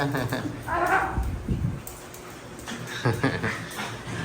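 Dogs whine and yip excitedly amid rustling and movement, while people talk and call out nearby.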